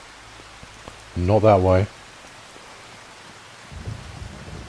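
Steady rain falls in Farming Simulator 25, a soft, even hiss under the whole stretch, with a brief spoken remark over it and a rougher rumble near the end.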